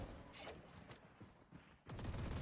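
Automatic gunfire from the Odin machine gun in the Valorant video game crackles in quiet, uneven bursts, distant and soft, with a brief lull before a louder stretch of shots near the end.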